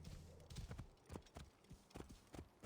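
Horse hooves clip-clopping in Assassin's Creed Origins, a steady run of hoof thuds at moderate loudness with a faint whinny-like tone in the background.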